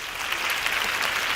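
An audience claps at a course orientation meeting, a dense, even patter of many hands lasting about a second and a half.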